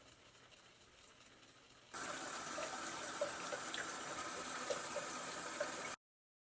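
Tap water runs steadily into a sink while makeup brushes are rinsed after washing with a foam brush shampoo. The flow starts abruptly, holds a constant hissing rush for about four seconds, then stops. No one speaks.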